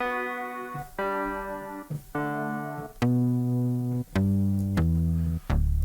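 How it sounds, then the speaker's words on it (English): Multi-timbral Emulator sampler patch split across the keyboard with bass at one end and piano at the other, playing a series of separate held chords and notes, each struck cleanly with bright piano-like attacks and deep bass underneath, no talking. "there's bass at one end and like a piano at the other"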